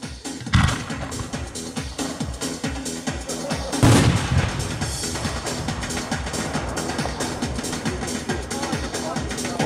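At a fireworks demonstration, a 125 mm Silver Glitter Blinkbombe shell launches with a loud boom near the start and another sharp blast midway, with a rumbling crackle of crowd noise and voices talking throughout.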